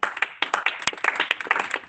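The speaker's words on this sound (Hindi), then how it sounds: "विशाल भाई के लिए जोरदार ताली" A small audience at a religious teaching session claps in a brisk, fairly close burst of individual, distinct hand claps, irregular but steady throughout, with no talking.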